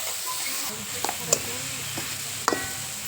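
Green chili, garlic and cumin paste with salt and oil is stirred in a pan, a few scraping strokes sounding over a steady soft sizzle, close and alone.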